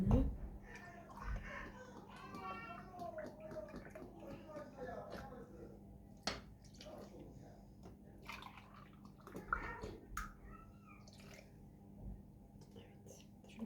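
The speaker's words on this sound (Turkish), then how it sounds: "bir buçuk su bardağı kadar da süt dökeceğim üzerine" Milk is poured over packaged chocolate sauce in a bowl for a cake: a soft liquid pour at the start, then faint sloshing and clinks under a quiet, close voice.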